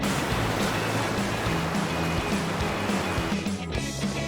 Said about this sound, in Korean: 빙하에서 흘러나오는 개울을 건너고